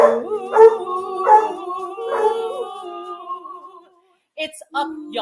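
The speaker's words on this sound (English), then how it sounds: "The dog did not like that." A dog howls in long, wavering rising-and-falling tones, answering live folk singing at a Renaissance festival. Several drawn-out howls follow one another over about four seconds, close and clear, then a short pause before more voice-like sounds.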